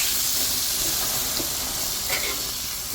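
Beef porterhouse steak flaming on a BBQ grill, a steady broad hiss and sizzle of marinade hitting fire, close and constant with faint pops.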